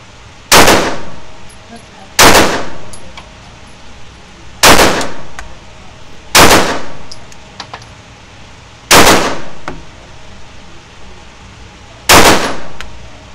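Six sharp shots from a Beretta APX A1 Carry pistol ring out one at a time, spaced roughly two seconds apart at an outdoor range, each loud crack trailing off into a short echo.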